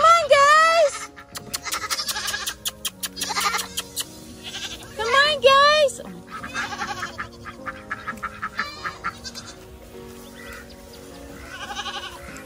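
Several goats bleat in wavering cries, close by on a farm, interrupted by a person calling out and other farm noises in the background.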